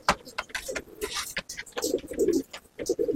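Andha and Malwai pigeons cooing at a loft, with repeated low throaty coos close by, mixed with wing flutters and soft rustling, and faint talk in the background.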